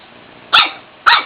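A dog, a Shiffon, gives two sharp barks at a chicken, close and loud, spaced about half a second apart with quiet in between.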